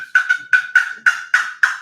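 Rapid turkey yelps rasp from a wooden box call, about nine sharp, raspy notes in a quick uneven rhythm, up close and loud with no other sound around them.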